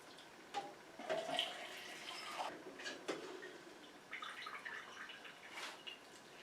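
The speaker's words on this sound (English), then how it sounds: "So now I'm ready to strain this. I'm using my Magical Butter filter," Liquid drips and trickles quietly through a Magical Butter filter bag while straining a lavender infusion, giving scattered soft splashes and brief runs over a faint background.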